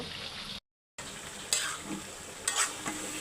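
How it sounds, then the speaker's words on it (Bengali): Spiced beef, coated in chili powder and ground spice paste, is stirred with a spatula in a pan, giving soft scraping strokes over a steady sizzle, with a brief dropout early on and a few louder scrapes. "তো এটা এখন ছুলনি দিয়ে একটু নাড়িয়ে দেব।"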